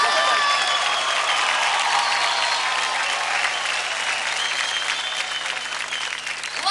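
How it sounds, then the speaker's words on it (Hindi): A theatre audience at a televised kids' dance competition bursts into loud, sustained applause, the dense clapping steady throughout and easing slightly toward the end. "तो जोरदार ताली बजाएं"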